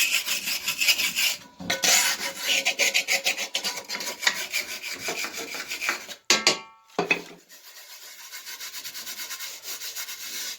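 A wooden spatula scrapes and rubs with salt inside a cast iron pan, producing rough, gritty strokes in uneven bursts with brief pauses, heard close and alone.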